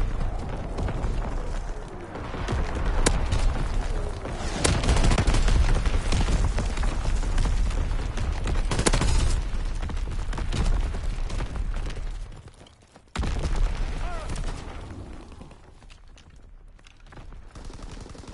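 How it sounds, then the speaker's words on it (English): An artillery barrage in Call of Duty WW2 on the Gustav Cannon map, dense rolling booms and gunfire filling the first half loudly, then a sudden cut and quieter sporadic battle noise. "Artillery ready for orders, awaiting coordinates. Firing for full effect."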